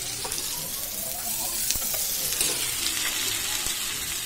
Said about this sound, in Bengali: আমি এক এক করে সবজিগুলো ভেজে নেব। গাজর দিয়ে দিচ্ছি, বাঁধাকপিগুলো দিয়ে দিচ্ছি